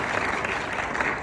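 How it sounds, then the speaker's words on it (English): Dense applause from a crowd after a speech, many hands clapping at once in a continuous loud patter, close and filling the room. "please give a round of applause to Captain Irani."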